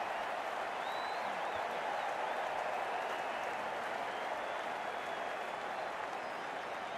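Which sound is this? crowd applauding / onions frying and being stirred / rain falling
crowd applauding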